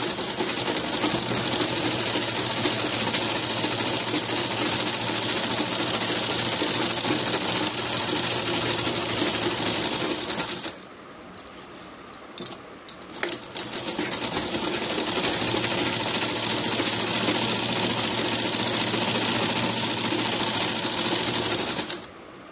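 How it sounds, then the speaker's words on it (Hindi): A sewing machine runs steadily while stitching along the hem of a petticoat. It whirs loud and close for about ten seconds, stops briefly, then resumes for another long continuous run. "देखिए किनारे पर सिलाई कैसे लगाई है"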